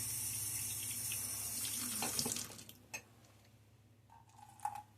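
Tap water runs for a couple of seconds to wet a shaving brush lathered with Midnight Stag soap, then cuts off, leaving a few small clinks and drips in a quiet bathroom.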